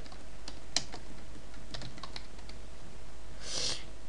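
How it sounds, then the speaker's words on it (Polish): Keys clatter on a computer keyboard in a quiet room, a short run of close, irregular taps with a few sharper clicks and no voices. "Wpisujemy co chcecie, ja wpiszę oczywiście Need Help"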